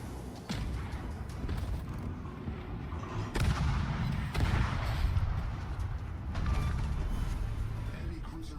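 Warship secondary guns firing in World of Warships, a steady run of dull booming shots layered over a constant low rumble of naval battle, fairly loud and continuous throughout.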